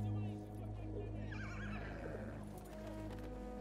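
A horse in the World War I shooter Battlefield 1 gives a loud whinny, then its hooves clip-clop steadily over a low rumbling backdrop, with faint voices mixed in.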